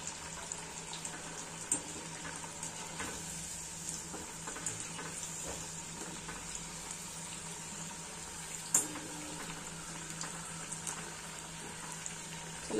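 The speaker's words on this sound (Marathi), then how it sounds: "पलटी करून घेऊया, दुसऱ्या बाजूने पण अशीच फ्राय करूया" Kothimbir vadi, coriander fritters, fry in hot oil with a soft, steady sizzle, quiet and continuous with an occasional faint clink, no speech.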